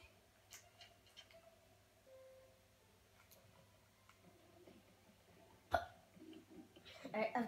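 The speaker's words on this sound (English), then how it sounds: "I've just got hiccups at the moment." A person with hiccups during a Minecraft gaming session gives a few short, abrupt hiccups at irregular intervals, including one sharp, louder one, over quiet background noise.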